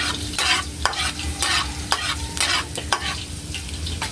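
Ground pork with onion and garlic stirred in a hot pan, a steady sizzle broken by repeated sharp scrapes of the utensil against the pan, close and fairly loud with no talking.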